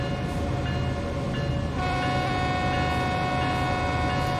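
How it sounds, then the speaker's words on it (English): A locomotive horn in the Train Sim World 3 video game sounds a crossing sequence, a loud sustained chord blaring steadily over the rumble of the train, close and without pause. "So this thing does the proper horn sequence for the crossings."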